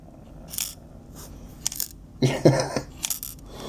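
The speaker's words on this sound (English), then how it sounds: "So there is an additional clicking noise" A few sharp plastic clicks and rattles, with a louder cluster in the middle, close up and quiet, no talking.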